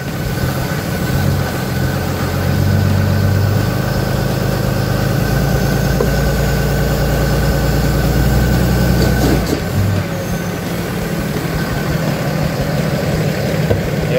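A Cummins diesel engine idles close by with a steady, loud, rumbling low drone that holds unbroken for the whole stretch, with a slight shift near the end and no talking over it.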